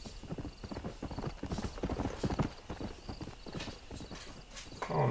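In the Red Dead Redemption video game, a stallion's hooves clip-clop in a brisk, steady rhythm, with a whinny near the end. The sound is fairly faint and heard alone.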